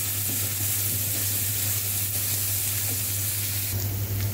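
Vegetables for spicy masala macaroni sauté in a hot pan, giving a steady, even sizzle close by with faint stirring scrapes throughout, no voices.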